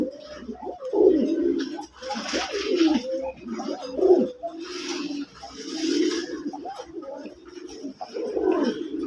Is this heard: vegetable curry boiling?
no